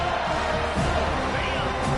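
A football stadium crowd roars and cheers in a broad, steady wash of noise, with a commentator talking over it.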